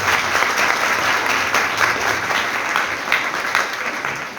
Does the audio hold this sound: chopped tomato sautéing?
no